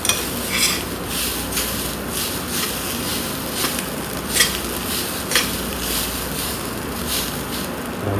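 A spatula scrapes the bottom of a pan of frying cha siu fried rice, giving repeated short metallic scrapes at an uneven rhythm over a constant sizzle, close and fairly loud.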